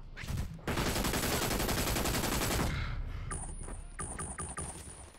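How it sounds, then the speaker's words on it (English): Rapid automatic gunfire in the video game Brink, a loud sustained burst of close shots lasting a couple of seconds, then a shorter spurt followed by metallic ringing tones. "Someone's attempting to shoot me."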